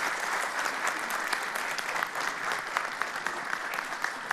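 A crowd at an outdoor evening event in Cazin applauds steadily, many hands clapping in a dense, even wash that carries on throughout.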